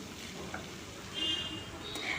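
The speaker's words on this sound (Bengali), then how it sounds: "এরপর এটাকে আমি আরেকটু নেড়ে নেড়ে শুকনো করে নেব" A cooked spiny gourd (kakrol) mixture is stirred and fried in a pan over a gas flame to dry it, giving a short steady close sizzle with soft stirring scrapes.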